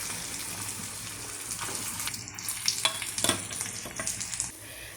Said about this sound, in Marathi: आता यामध्ये आपण किसलेला आलू मिक्स करूया।